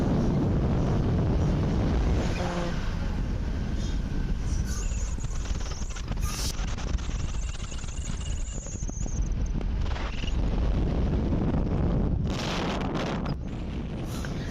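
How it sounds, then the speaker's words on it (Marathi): Strong gusts buffet the microphone on a hilltop by a Ganpati temple, with low rumbling roar throughout, joined by faint clopping and a passing whine; no one speaks. "असं उंचावर मंदिर असल्यामुळे सतत तिथे वारा वाहतच असतो"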